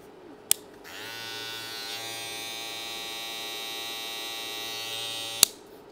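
An electric hair clipper switches on with a click, buzzes steadily and loudly at close range for several seconds, then clicks off.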